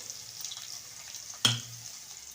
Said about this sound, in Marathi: तेल आता इथे गरम झालेलं आहे तेव्हा यामध्ये अर्धा चमचा आपल्याला जिरे घालायचं आहे पाव चमचा हिंग घालायची आहे